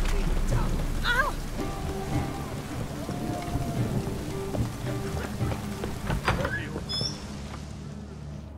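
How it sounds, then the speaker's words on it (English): Steady rain hisses throughout in The Witcher 3: Hearts of Stone, with occasional low rumbles, game music and effects layered on top, and a brief voice near the start. "It's raining, of course it's going to be done."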